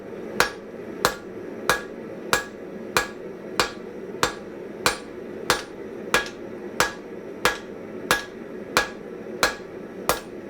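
A newly made hammer strikes metal stock being drawn out at the forge, landing about seventeen sharp, evenly spaced blows at a steady rhythm, close and clear.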